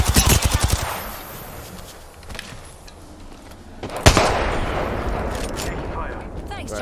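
Gunfire in the battle royale game Apex Legends: a rapid burst of shots opens, then a sharp loud crack near the middle followed by continued noisy shooting and action, with game sounds filling the background.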